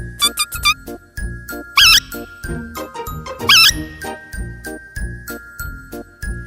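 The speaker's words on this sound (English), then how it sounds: "What sound does a rat make? A rat says," High cartoonish squeaks rise twice over a bouncy, tinkling music track with a thumping beat.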